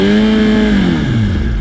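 A motorcycle engine revs hard with a strong, steady tone that sags and drops in pitch as the clutch is dumped, loud and close with no talking.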